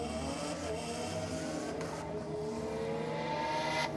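A drag race car on the strip at a V8 versus rotary night, engine roaring loud and continuous as it accelerates hard through the gears, pitch climbing with brief dips at each shift.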